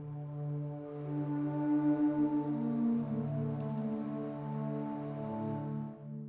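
Airy, breathy string samples from the Spitfire Albion V library, a sustained chord with soft shifting inner notes, moderately loud and steady, with no talking.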